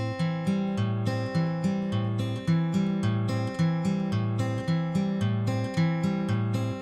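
A backward roll in Travis picking on a steel-string guitar: the thumb alternates from the second bass string to the first while the fingers pluck treble notes in a steady, looping pattern, clear and close with no voice.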